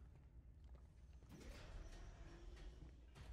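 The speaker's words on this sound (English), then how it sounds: "I heard a door opening." A door creaks open in the sci-fi horror game The Callisto Protocol, a mechanical groan sliding upward then sustained for about two seconds over low, rumbling ambience, ending with a faint clank.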